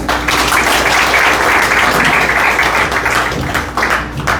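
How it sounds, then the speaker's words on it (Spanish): An audience gives loud, continuous applause for a professor at an academic lecture event, a dense wall of clapping that holds steady for several seconds, close and full. "a quien pido un fuerte aplauso"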